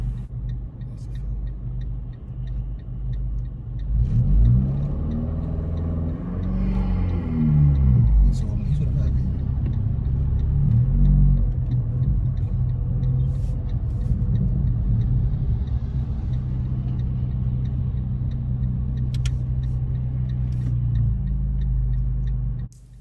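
A learner driver's car on a mock driving test in Tottenham pulls away from a traffic light, its engine revving up and over-revving between gears, a steady close rumble lasting through most of the stretch with occasional ticking.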